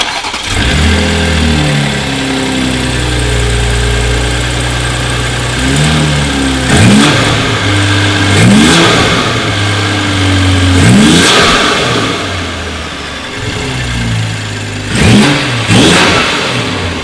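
A car engine with an aftermarket intake idles low, then revs up repeatedly in short bursts, each throttle blip rising and falling, loud and close with a throaty intake note.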